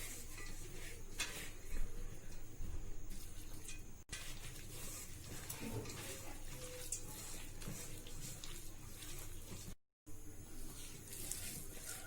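Water is poured into gram flour batter for onion pakoda and stirred in a bowl, a soft, steady wet mixing and scraping that runs close by throughout with a faint trickle, with no talking.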